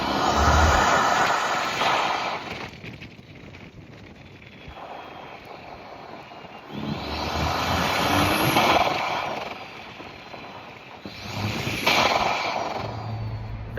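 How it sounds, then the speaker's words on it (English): A Lotus Emira's four-cylinder turbo engine draws air loudly through its intake while accelerating, rising in surging bursts with whooshing turbo whistles between gear changes, heard from inside the car with the windows down. "Listen to the intake noise."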